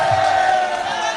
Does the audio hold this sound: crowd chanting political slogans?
yes